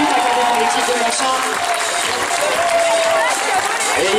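Audience applauding at a women's horseball Coupe de France final, steady dense clapping throughout with a commentator speaking over it.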